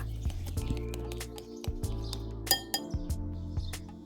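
Repeated light clinks of a utensil against a glass bowl as eggs are stirred with seasoning and sugar, quick irregular taps close up over a steady low background hum.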